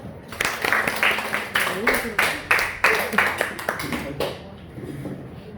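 An audience claps in a burst of applause that rises and holds for several seconds before tapering off, heard close and fairly loud at a church gathering.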